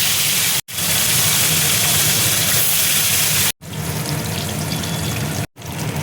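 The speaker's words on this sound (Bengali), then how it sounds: "এবার মাছগুলো এক এক করে তেলের মধ্যে ছেড়ে দেবো।" Fish sizzle loudly in hot oil in a wok, a steady dense hiss broken by brief cuts.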